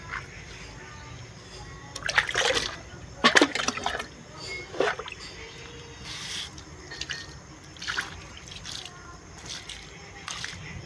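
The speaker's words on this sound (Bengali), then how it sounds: "বালতির ফুটা সব জল পড়ে যায়।" Water leaks out through holes in a bucket onto sand outdoors, heard as irregular splashing and dripping bursts over a quiet background, close by and moderately loud.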